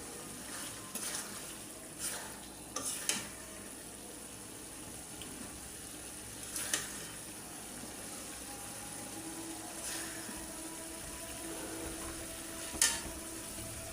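Salted hilsa fish cooked down with onion and garlic into a bhuna, with soft frying sizzle under occasional sharp scrapes and clinks of stirring at irregular intervals.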